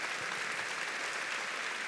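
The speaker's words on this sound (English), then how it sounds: "So round of applause for Brittany as well." Steady, dense applause from a talent show crowd, a continuous wash of many hands clapping at an even level with no voices on top.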